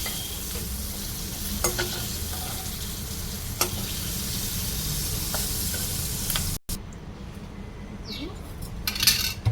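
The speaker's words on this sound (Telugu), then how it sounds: "ఇంకా కొద్దిగా వేయించుకుంటే సరిపోతుంది పచ్చిమిర్చి కూడా బాగా వేగిపోయినాయి" Green chilies frying and sizzling steadily in a pan, with a continuous hiss and occasional scrape of a stirring utensil, close and fairly loud, a short break near the end.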